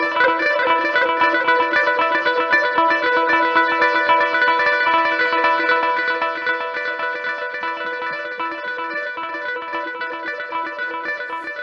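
A sustained dominant seventh chord with a delay effect, its echoing repeats stacking into a dense shimmering wash that holds steady, then drops slightly in level partway through; no voices.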